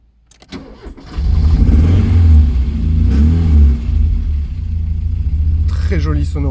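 A Porsche 924 with a new Dansk exhaust line starts up and revs, a loud, close, deep engine note that rises and falls before settling toward idle; a person speaks briefly near the end.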